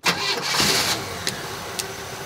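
A 1965 Chevrolet Impala engine cranks and starts abruptly, catching within a second, then settles into a steady idle with a couple of faint ticks, close and loud.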